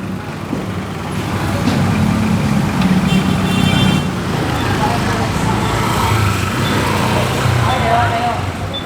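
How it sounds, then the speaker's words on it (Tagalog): Motorcycle and car traffic on a crowded street corner, engines rumbling and humming steadily close by while someone talks over the noise throughout. "daming motor nito."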